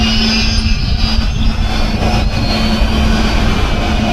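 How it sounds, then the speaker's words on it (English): A small Holy Stone HS430 camera drone with brushed motors flies nearby, giving off a steady, continuous buzzing whine with a hum underneath that holds for the whole stretch with no talking. "let's just enjoy flying the little HS430. It's a cool little drone"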